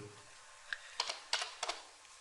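Quiet keystrokes on a computer keyboard while entering a command in AutoCAD, five or six light clicks in a short uneven burst, close but faint.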